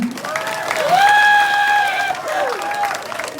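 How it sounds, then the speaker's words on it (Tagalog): An audience at an evening show applauds in a steady, loud wash of clapping, with rising cheers and whoops from the crowd mixed in. "Wala po bang palaktakan dyan?"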